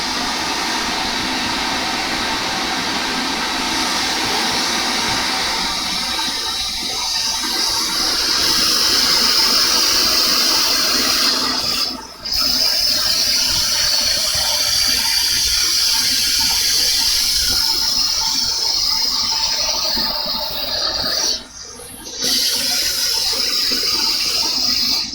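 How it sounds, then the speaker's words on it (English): A shop vac runs loud and steady for the whole stretch, a continuous broadband roar with a high whine on top and two brief dips where the suction changes, with no talking over it. "Let's go get our shop vac."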